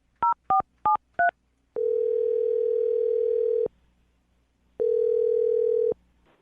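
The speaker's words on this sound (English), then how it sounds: "I'm going to dial his phone number right now" Four quick touch-tone dialing beeps from a telephone, followed by two long ringback tones separated by a silent gap, clear and close.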